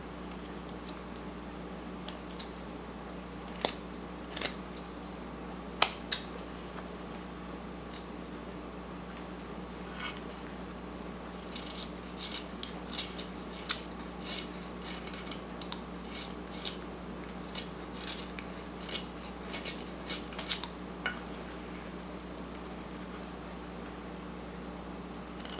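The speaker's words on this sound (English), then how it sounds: "I'm going to make a little cut in here, cut in here, cut in here" A carving knife making small cuts into a wooden Civil War figure, producing faint, sparse clicks and scrapes at irregular intervals over a quiet, steady room hum.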